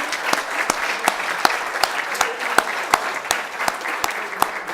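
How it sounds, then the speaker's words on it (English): An audience at a farewell and felicitation event applauds the Consul for Cultural Affairs with a sustained round of clapping, crisp claps standing out over a steady crowd wash. "A warm round of applause for"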